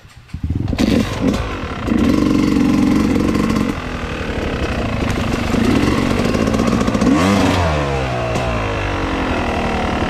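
A motorcycle engine runs loud and steady, rumbling throughout with a rise in revs partway, then settling into a rough idle.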